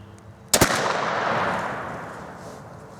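A single sharp shotgun blast from a vintage .410 firing a copper-plated turkey load cracks out nearby outdoors, then a long rolling echo fades away over a couple of seconds.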